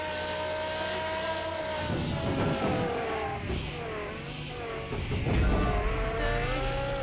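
A Porsche Carrera GT laps the test track in the video game Car Mechanic Simulator 2021: a steady, loud synthetic engine whine rises and falls through revs, with bursts of tire squeal in the corners.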